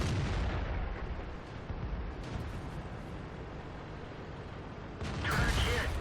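A tank shell strikes a turret in World of Tanks, with a heavy booming rumble throughout, a loud low explosion burst near the end, and a voice speaking faintly under the din.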